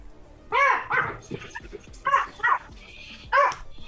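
Several dogs bark in short loud bursts, three or four clustered yelps spaced across a few seconds, nearby and in a home, with a quieter voice murmuring in between.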